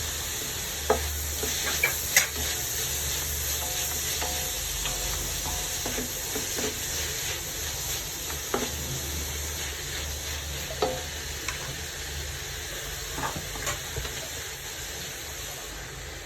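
Onions frying in ghee for prawn biryani give a steady close sizzle and hiss, broken by occasional stirring scrapes and taps against the pan, with no speech.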